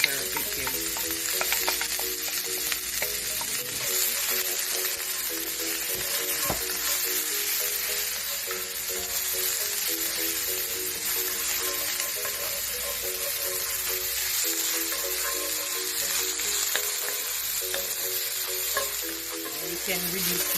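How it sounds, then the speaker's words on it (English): Garlic and onion sauté in oil in a pan, giving a steady, soft sizzle with light stirring that carries on evenly throughout. "saute my garlic and my onion"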